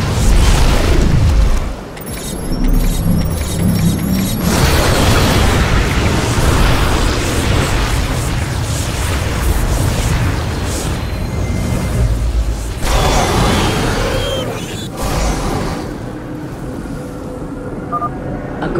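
Heavy cannon fire and explosions from the StarCraft II: Legacy of the Void battle around a temple on Shakuras, a dense, loud, continuous barrage of booms and bursts with mechanical clatter lasting the whole stretch.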